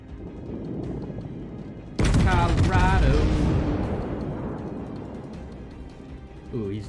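Heavy battleship gun salvo booming in World of Warships, a sudden loud blast after low engine rumble, then a long rolling decay, with a voice speaking beneath it.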